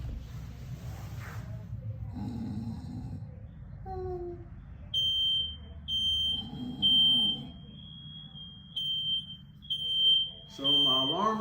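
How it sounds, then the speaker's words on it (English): Smoke alarm sounding in a home during a fire escape demonstration, a shrill repeated tone in steady pulses that keeps going while a person speaks quietly nearby. "So my alarm is going off."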